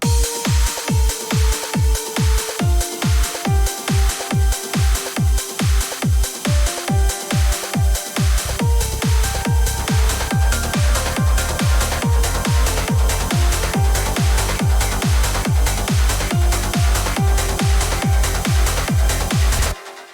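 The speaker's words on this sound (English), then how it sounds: "That whole orchestrated little pad section is literally happening in the background of this whole trance beat" A driving trance beat with a fast, steady four-on-the-floor kick, sustained orchestral pad chords layered underneath, loud and continuous until an abrupt stop.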